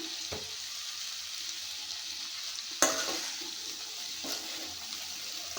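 Eggplant pieces fry in a pan with chili powder and salt, a soft continuous sizzle punctuated by a few sharp scrapes and clatters of a spoon stirring against the pan.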